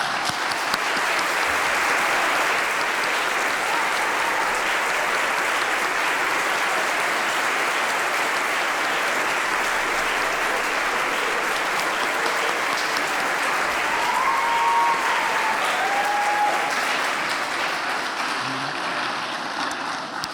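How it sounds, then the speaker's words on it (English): An audience at a university convocation for Hispanic Heritage Month claps in a long, dense, sustained round of applause. A couple of faint whistles rise above it midway, and the clapping begins to thin only at the very end. "can we give them a round of applause for them being so brilliant."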